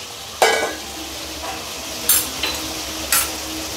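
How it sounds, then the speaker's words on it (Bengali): A metal spatula scrapes and clinks about four times in a pan as fried potato and coconut pieces are stirred into spices for Bengali cabbage with coconut, over a faint steady sizzle. "ভেজে রাখা আলুর টুকরোগুলো এর মধ্যে দিয়ে দিচ্ছি"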